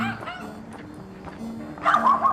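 A small dog on a street in Seoul gives a few yips and barks, moderately close, briefly at the start and again near the end amid background noise.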